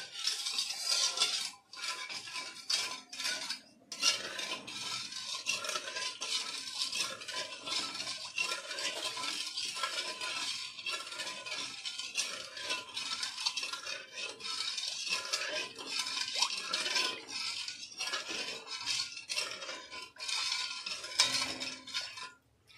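A utensil stirs and scrapes rhythmically in a pot of sugar melting in water for a long stretch, with light clinks against the metal, close by.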